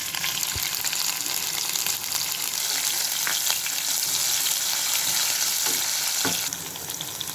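Continuous hot-oil sizzle of green chilies sautéing in a pan, with occasional stirring clicks and scrapes, close and steady throughout.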